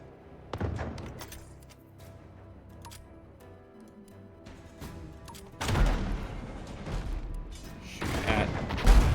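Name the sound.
mortar fire from enemy ships in a video game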